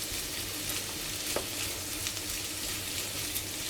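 Cacciatore sausage and speck frying in a pan make a steady, even sizzle that stays close and continuous, with an occasional small pop or crackle and no voices.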